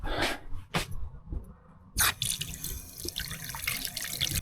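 Water runs from a shower at a campsite ablution block in Botswana, first in short splashing bursts and then as a steady hiss of flowing water with small clatters mixed in.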